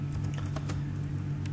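Keys tapped on a computer keyboard while an admin name and password are entered into Tally ERP 9 accounting software, a quick run of light clicks over a steady low hum.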